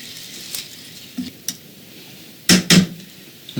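Vegetables and tofu are stirred in a pan, with a faint background sizzle broken by a few scraping, clattering strokes, two louder ones close together near the end.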